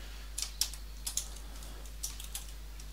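Typing code on a computer keyboard: a few crisp, close key clicks in irregular bursts over a quiet room hum.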